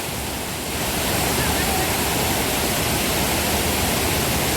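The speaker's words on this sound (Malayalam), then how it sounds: "ഒരു വെള്ളച്ചാട്ടം കണ്ടോ?" Steady roar of a waterfall in Kerala, a broad continuous rush of falling water that swells slightly after the first second and then holds loud and even.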